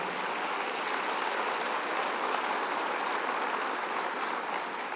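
Steady, dense applause from a church congregation, sustained at even volume throughout with no pauses.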